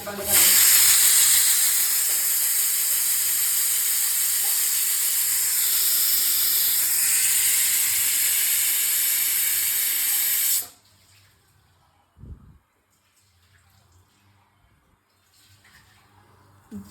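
A pressure cooker on the stove lets out a long, loud, steady hiss of escaping steam for about ten seconds, then cuts off abruptly, leaving a quiet kitchen with a few faint clinks.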